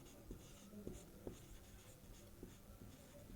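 Faint scratchy strokes of writing on a board or paper during a maths lesson, several short marks in an irregular rhythm over a low background hum.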